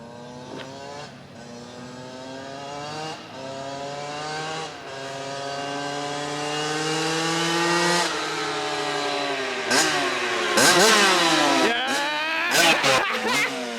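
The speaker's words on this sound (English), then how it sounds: "I'm about to learn how to ride the KX100 2-stroke right now" A KX100 two-stroke dirt bike engine revs up and down in repeated rising and falling sweeps, close and loud, building to sharper, higher-pitched bursts near the end.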